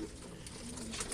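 Racing pigeons in a loft coo softly nearby, a low murmuring call over a faint room hum.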